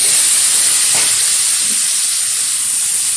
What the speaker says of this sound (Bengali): এখন এই তেলের মধ্যে দিয়ে দিচ্ছি কিছুটা কালো জিরে ফোড়ন দিয়ে দেবো